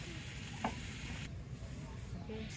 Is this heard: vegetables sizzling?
yes